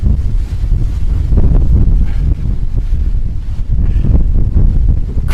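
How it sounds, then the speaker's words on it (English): Strong, cold wind blasts across a hilltop castle entrance gate at the Cathar site of Queribus in southern France, roaring loud and continuous into the microphone with gusty buffeting throughout. "When she said be careful of the wind, she meant be careful of the wind."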